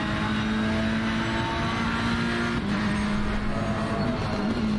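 A race car engine in a sim racing game at Misano holding full throttle out of the last corner, a loud steady high-revving drone that climbs slightly in pitch, close and continuous with no talk.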